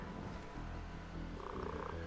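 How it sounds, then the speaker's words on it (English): A house cat purring close to a gamer's headset microphone during a GTA Online session, a soft steady rumble running throughout, low and continuous with slight pulsing, no speech over it. "is your cat nearby? Yeah, because I hear it."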